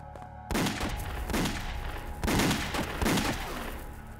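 Gunfire from a Mauser box pistol in a war drama set during the Japanese occupation of Harbin comes as four loud, close shots or short bursts spaced roughly a second apart, each with a reverberant tail.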